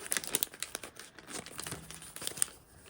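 Plastic packaging of Japanese souvenir stickers crinkling and crackling close up as the bag is carefully opened, a busy stream of sharp rustles and small pops lasting a few seconds with no talking.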